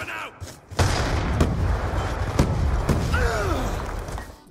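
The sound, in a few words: grenade explosions in various video games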